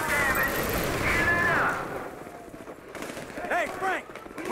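Video game gunfire from a mission shootout crackles in dense bursts under steady background noise, with character voices and sirens-like tones layered over it.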